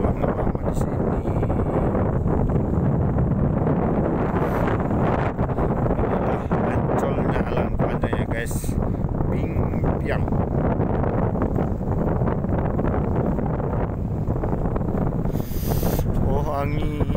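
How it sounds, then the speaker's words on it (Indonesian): Cold wind gusts steadily at a lakeside campsite by twin lakes, roaring loudly across the microphone for the whole stretch while people talk over it now and then. "Oh, angin dinginnya."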